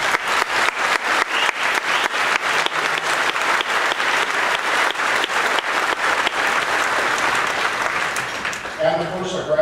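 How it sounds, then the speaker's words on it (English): Graduation ceremony crowd giving a sustained round of applause for school board members, with many hands clapping loudly and continuously before it tapers off; brief talk emerges at the very end. "Can we have a round of applause for these people?"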